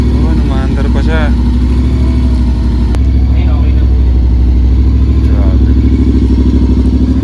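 Motorcycle engine idling nearby, a loud, steady, low mechanical chug with light clatter that runs throughout while someone talks over it.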